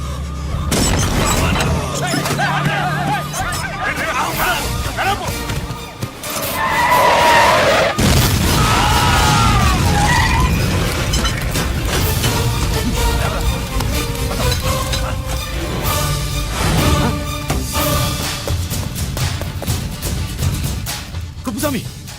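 A bomb explosion in a film action scene: a loud boom rolls out amid chaotic noise, with shouting voices, crashing debris and a horse-like squeal mixed into a dense, sustained roar.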